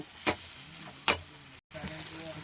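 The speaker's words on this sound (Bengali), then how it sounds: "এইবারে আমি একটু নেড়ে চেড়ে নামিয়ে নেব" Snake gourd and fried fish roe being stirred in a pan: a soft sizzle runs underneath while two sharp scraping strokes of a spatula stand out, then a brief cut to silence before the frying resumes.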